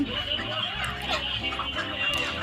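Broiler chickens on a farm, ready for harvest, clucking continuously as a dense flock, with overlapping calls close by and no speech.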